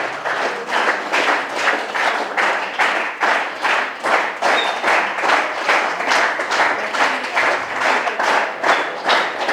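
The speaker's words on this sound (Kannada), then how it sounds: "ಈ ವೀರ ಯೋಧನಿಗೆ ಜೋರಾದ ಚಪ್ಪಾಳೆ ತಟ್ಟುವುದರ ಮೂಲಕ ಆತನಿಗೆ ಅಭಿನಂದಿಸೋಣ" Loud, steady audience applause honouring a young Agniveer army selectee at a village felicitation event, dense clapping with a rhythmic pulse running throughout and no voices over it.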